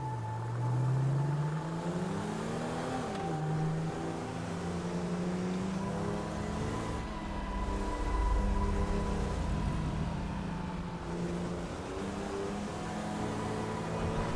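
A car in the video game GTA 5 drives around a city block, its engine hum rising and falling with gear changes and throttle shifts, moderately loud and continuous, with no voices.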